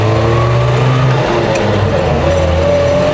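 A 1986 Land Rover Santana engine drones loud and close from inside the cab, its pitch dropping and settling as it moves from first into second gear.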